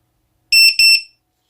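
Vifly Finder 2 drone finder buzzer sounding at maximum volume, two loud, piercing, shrill beeps in quick succession, very close, then silence.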